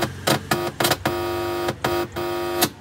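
A Sony DVD home theatre powered up after a 32-volt power supply repair gives out a series of loud, repeated tonal hums and beeps with short gaps between them.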